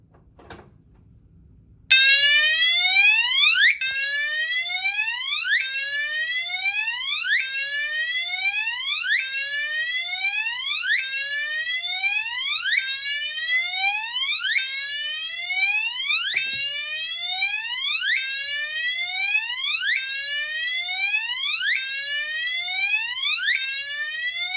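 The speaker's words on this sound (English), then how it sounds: "this is me testing the Gentex Commander 3 horn-only red version on Whoop Tone" A red, horn-only Gentex Commander 3 fire alarm sounds on its whoop tone, sweeping upward again and again in a loud, rapid, regular cycle after a brief quiet start.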